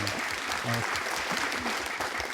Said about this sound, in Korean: 박수 쳐서 1억 원입니다